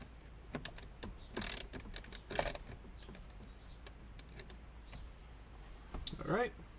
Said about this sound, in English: So I'm going to put those screws back in right quick.